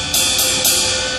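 A jazz ride cymbal plays straight eighth notes, bright washy strokes repeating evenly over about a second, close and alone.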